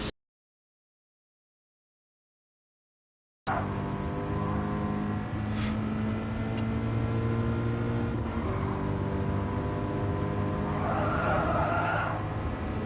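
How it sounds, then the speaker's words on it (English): A safety car in the Gran Turismo Sport racing game at the Autodrome Lago Maggiore circuit drives past after a few seconds of silence, with a steady engine drone, passing tonal whine and faint tire noise, loud and continuous. "There goes the safety car."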